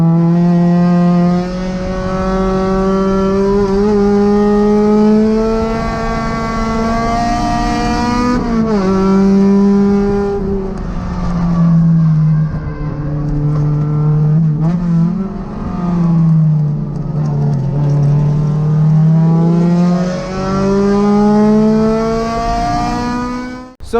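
A 1996 Honda Civic hatchback engine revs steadily up and down, with rising and falling pitch as the car drives, loud and close with no talking throughout.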